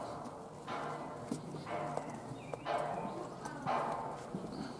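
Horses at the Irish National Stud walk with quiet clip-clopping hooves at an unhurried pace, a few steady clops spread out over several seconds with light background noise.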